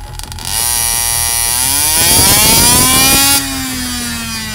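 A 1/5 scale engine fitted with an RB Innovations supercharger runs on a dyno, screaming loud and close as it revs up through a rising whine, holds high, then drops back to a steady buzz.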